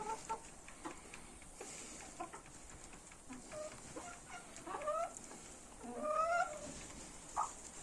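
Black Mottled Bantam Cochin hens and a rooster cluck softly in a coop, scattered short calls and a few louder rising notes over a steady background hiss, fairly faint and close.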